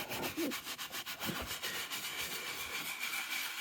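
A gentle back-and-forth scrubbing on an interior surface of a BMW M4 CS, a soft, close rubbing with a steady rhythmic swish and no voices.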